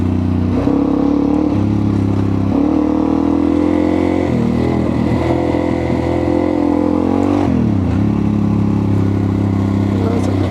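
A dirt bike, a DRZ 400 or CRF 300 Rally, climbs a hill on a trail ride, its engine droning loud and steady with rising and dropping revs through gear changes and wind rumble throughout.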